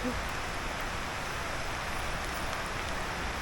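Steady, dense storm rainfall pours down in a continuous broadband hiss, loud and even throughout with no breaks.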